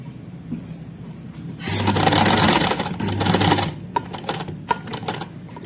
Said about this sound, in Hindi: यहाँ सिलाई को डबल करेंगे ताकि यहाँ से पक्का हो जाए